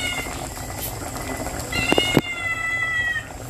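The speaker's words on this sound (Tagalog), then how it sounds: "Iingay talaga tong pusa ko ba?" A cat meows briefly, a short rising cry near the middle, over a steady background of household noise.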